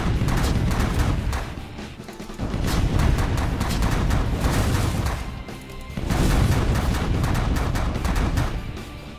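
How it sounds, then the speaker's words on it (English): Energy blaster on auto fire in The Last Federation, pulsing in rapid repeated bursts that swell into loud stretches of continuous blasting, with short lulls between volleys. "switch to Energy Blaster and Auto Fire"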